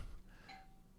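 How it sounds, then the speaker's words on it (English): A doorbell rings once, fairly faint, as a brief chime that hangs over quiet room noise. "I have someone frantically beeping my doorbell"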